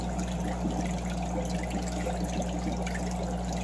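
Steady, soft trickle of water from a hang-on-back aquarium filter, its motor-driven impeller returning flow into the tank with a constant low hum underneath, no speech.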